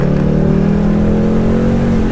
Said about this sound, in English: I'm glad that it's a V8. I'm glad it's a 5-liter, and man, it sounds good.